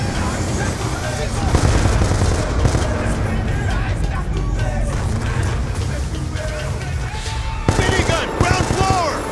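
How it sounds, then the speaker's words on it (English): Sustained automatic gunfire from a minigun sentry in Call of Duty Black Ops 2, dense and continuous under battle noise, with heavy low rumble and rapid bursts across the whole stretch, a voice talking over it at times. "Minigun, huh?"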